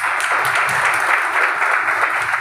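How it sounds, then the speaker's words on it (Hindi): Steady applause from a seated audience at a business talk, dense overlapping hand claps sustained at even loudness throughout, with no voices over it. "ताली ऐसे आप बजा रहे हैं"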